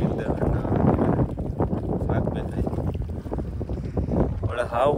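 Strong gusty wind on a rainy day buffets the microphone with a steady, loud roar that lasts throughout, while someone talks over it.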